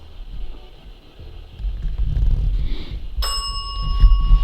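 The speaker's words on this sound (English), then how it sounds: "You've set off both bells." Small bells ring out sharply in an abandoned tuberculosis sanatorium hallway, a bright sustained chime starting suddenly and lingering over a low background rumble, close and fairly loud with no talk.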